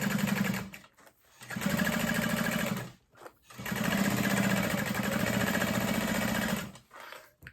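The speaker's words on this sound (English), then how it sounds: "I'm going to follow my other stitch line, but again, 1/2 inch" A sewing machine stitching a backpack lining runs in three bursts of rapid, even mechanical chatter. Each burst lasts several seconds and is split by short pauses, up close and with no talk.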